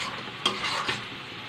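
Prawn curry with gravy being sautéed in a pan, a steady sizzle with spoon stirring and scraping and a couple of sharper clinks against the pan, close and continuous with no talking.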